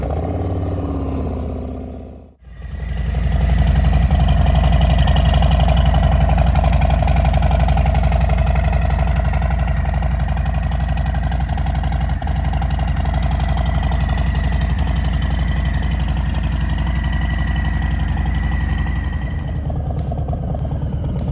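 A car engine cold-starts with a short crank and catches, then settles into a steady, loud idle that runs on for around twenty seconds.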